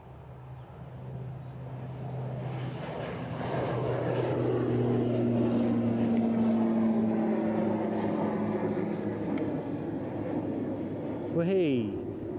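An aircraft lifts off from Edinburgh Airport, its engine drone swelling and holding steady at a distance, with a brief rising whine near the end; a voice speaks over it.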